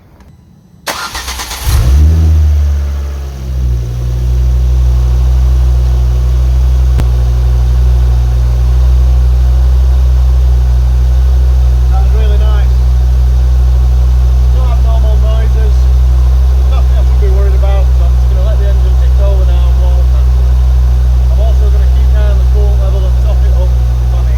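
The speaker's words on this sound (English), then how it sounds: "I'm going to let the engine run just at an idle" A Ford Focus RS engine with a 2.5-litre Volvo five-cylinder turns over and settles into a steady, loud idle, a low even rumble that continues unchanged, with faint voices now and then underneath.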